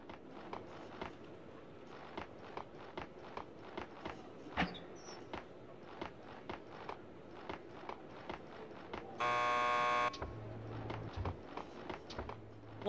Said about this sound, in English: Just press the buzzer by the door.